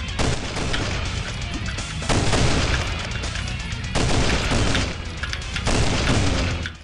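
Gunfire in the first-person shooter game Sauerbraten comes as four heavy, booming blasts spread across the clip, each loud and broad, over continuous game noise.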